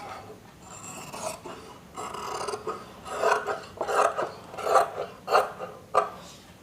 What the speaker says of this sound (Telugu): ఇప్పుడు ఇక్కడ నుంచి ఇక్కడికి కటింగ్ చేసేద్దాం.